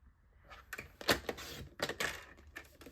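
A paper trimmer slices half an inch off a sheet of card stock in a few quick, close, crisp scraping strokes with small clicks, heard alone in a quiet room.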